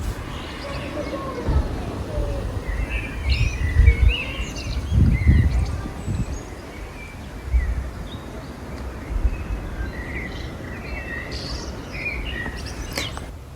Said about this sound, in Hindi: तो ये थी चिड़ियों की चहकने की आवाज़ जो मैंने सोचा मैं आपको सुनाऊं